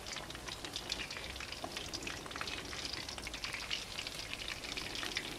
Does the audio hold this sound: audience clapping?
no